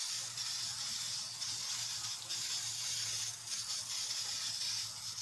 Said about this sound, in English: It's spraying by itself.